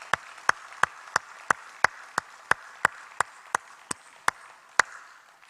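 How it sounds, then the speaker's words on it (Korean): In a church service, about fifteen sharp, isolated claps land at an even beat, spaced roughly a third of a second apart over quiet background, more like one rhythmic clapper than a full congregation. "하나님께 우리 영광의 박수 올립니다."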